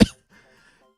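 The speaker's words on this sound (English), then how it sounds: "you cough a few times" A single sharp cough from someone who is sick, close and loud, followed by faint low rustling and near silence.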